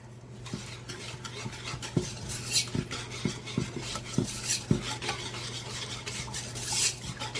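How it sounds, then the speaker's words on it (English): Egg yolks, salt and lemon zest whisked in a bowl, giving a close, steady scraping swirl with light clinks of the whisk against the bowl, under a constant low hum and without voices. "We're going to whisk this together."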